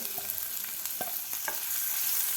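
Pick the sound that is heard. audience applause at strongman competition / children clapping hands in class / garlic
garlic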